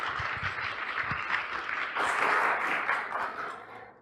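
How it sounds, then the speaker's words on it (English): Conference audience at OpenFest in Bulgaria applauds a lecturer, a steady wash of clapping that swells briefly midway and then fades toward the end. "Please applause for him."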